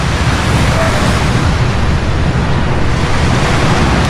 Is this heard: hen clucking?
no